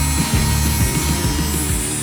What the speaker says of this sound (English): just replace the cup at the bottom and grind all the way